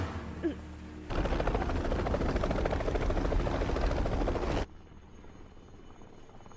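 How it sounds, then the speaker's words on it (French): A helicopter arrives with a loud, dense rotor thudding and roar that cuts in suddenly and holds steady for about three and a half seconds before dropping away to a quieter background. "l'hélicoptère est là!"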